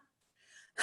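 A singer demonstrates a short panting breath in place of clearing the throat: a soft breathy exhale, then a sharp, louder gasp of air at the end, close and alone.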